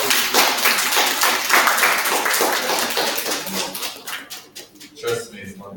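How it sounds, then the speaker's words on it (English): A crowd claps steadily with dense, overlapping applause that thins out toward the end while voices murmur underneath. "Now we give a round of applause."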